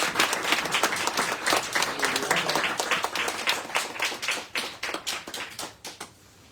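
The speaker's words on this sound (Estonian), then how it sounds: "teeme aplausi" A small audience at a book presentation claps in a thinning, uneven patter of individual hand claps that gradually tapers off, fairly close and sparse rather than a roaring ovation.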